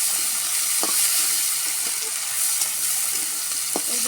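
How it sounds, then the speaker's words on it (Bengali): Chopped onions fry in a pan for an egg dish cooked with coconut milk, giving an even close sizzle throughout with a few faint spatula taps. "পেঁয়াজগুলো একটু ভেজে নিয়ে"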